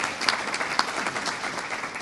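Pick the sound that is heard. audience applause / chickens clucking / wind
audience applause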